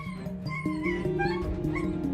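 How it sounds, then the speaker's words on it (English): A dog tangled in fabric whimpers and cries in high, wavering whines, close and continuous. "The police officer heard the cries of an unfortunate dog that had accidentally gotten tangled up in some fabric"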